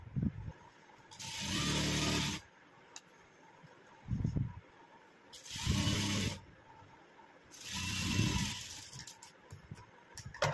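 A sewing machine stitches fabric in three separate bursts of a few seconds each, a loud rapid mechanical chatter with quiet pauses and small handling clicks between runs.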